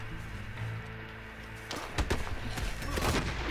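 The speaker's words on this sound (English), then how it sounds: "Ain't no way he shot both of us, bro." Gunshots in the online mode of the video game Red Dead Redemption 2, a few sharp reports cracking out over a low game-world rumble in the second half, moderately loud.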